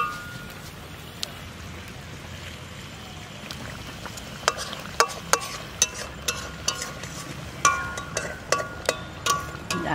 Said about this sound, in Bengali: জাল হয়ে গেছে, এবার মাছটা দিচ্ছি।